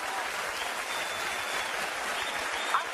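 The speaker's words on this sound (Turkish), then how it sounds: "bir alkış alalım önce Ayşe Hanım'a" Studio audience at a Turkish television talk show claps in a sustained, even burst of applause, a thick continuous patter filling the room without any talk over it.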